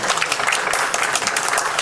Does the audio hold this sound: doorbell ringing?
no